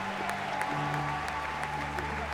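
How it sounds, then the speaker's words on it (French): An audience applauds continuously after a chessboxing fight at the Olympia in Paris, a dense steady wash of clapping with a voice speaking over it. "vous pouvez vraiment les applaudir très fort"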